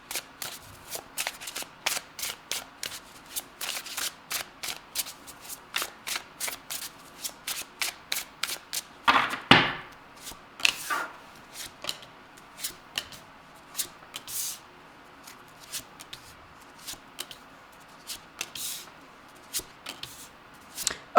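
Tarot cards being shuffled by hand, a long run of quick riffling and soft flicks close up, with a louder burst of card noise near the middle, quiet and alone without speech.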